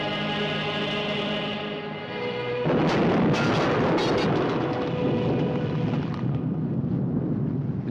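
An explosion effect from a Tamil feature film: a low rumble gives way to a sudden loud blast with crackling debris, which rolls on into a sustained roaring aftermath.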